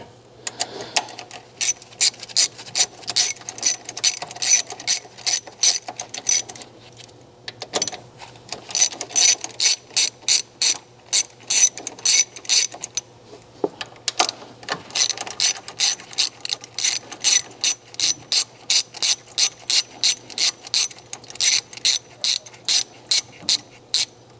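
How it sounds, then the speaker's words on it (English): A ratchet wrench with a 10mm socket loosens screws on a 2014-2019 Chevy Silverado or GMC Sierra, giving rapid, loud, close clicking in repeated bursts with short pauses between them. "Now we're going to be using our 10mm socket, and we're going to get 3 of these screws undone."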